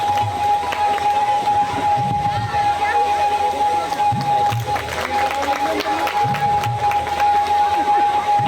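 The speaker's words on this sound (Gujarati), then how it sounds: "જોરદાર તાળીઓના નાદ સાથે આ સૌ મહાનુભાવોને આપણે વધાવીએ." Applause and crowd noise greet dignitaries at a school event in Bhavnagar, a dense, steady wash of clapping lasting throughout with a constant electronic whine running underneath.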